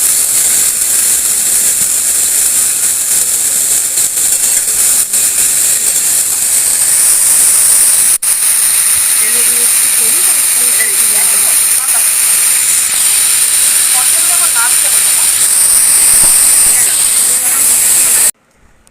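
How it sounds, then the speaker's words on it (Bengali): Bay leaf, dried red chilli and whole cumin sizzle in hot oil in a kadai, a loud, continuous frying hiss throughout, with a faint voice briefly underneath and a sharp cut-off at the end. "এবার কড়াই দিয়ে দিলাম তেজপাতা, শুকনো লঙ্কা আর গোটা জিরে ফোড়ন"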